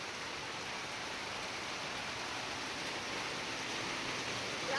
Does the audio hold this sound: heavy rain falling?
yes